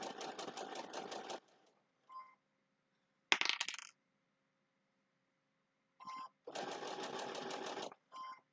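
A sewing machine stitches through fabric and batting while quilting a pumpkin snack mat, running in short buzzing bursts separated by pauses, with a couple of brief clicks and taps between runs.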